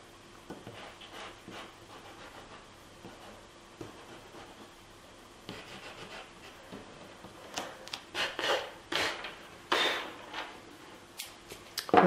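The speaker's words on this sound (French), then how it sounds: "il ne me reste plus qu'à gommer mes explications et mes traits de construction" An eraser rubs pencil construction lines off drawing paper in soft, close scrubbing strokes, quiet at first and growing into quicker, firmer rubbing bursts toward the end.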